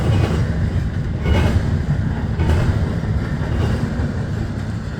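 A CSX intermodal freight train hauled by a single locomotive passes at night in high wind and rain, a loud, steady rumble of rolling cars with faint rhythmic wheel clatter throughout.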